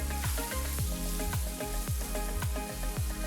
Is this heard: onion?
yes